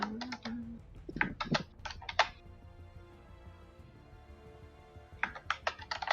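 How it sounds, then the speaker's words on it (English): Bursts of computer keyboard typing in quick clusters of keystrokes, pausing in the middle and resuming near the end, close and moderately loud with a faint background hum, heard during a tabletop role-playing session. "I was just typing it out."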